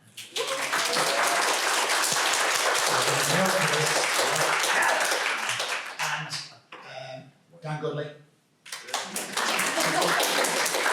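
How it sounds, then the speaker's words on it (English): Loud, dense applause from a conference audience fills most of the stretch, then thins and breaks off briefly as someone speaks a few words, before the clapping swells back up at the end. "Round of applause, come on up."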